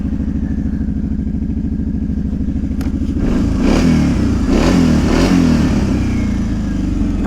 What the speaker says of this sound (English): this thing sounds good. Like I said, it's got that V-twin sound.